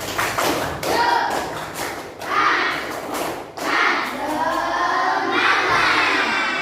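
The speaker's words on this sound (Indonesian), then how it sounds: "Lanjut, tepuk semangat." Classroom of children doing a rhythmic spirit clap during a lesson, bursts of clapping and thumping in sections with children's shouts and voices over it.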